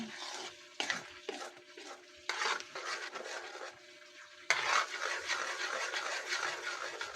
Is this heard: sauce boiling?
yes